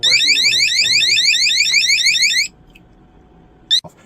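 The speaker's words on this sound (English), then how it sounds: "when these get wet, or when the sensor here gets wet, you'll get an alarm sound like such" A Govee water leak sensor's alarm goes off when its probe gets wet, a loud, rapid, repeating electronic warble that runs for about two and a half seconds and then stops, followed by a short chirp near the end.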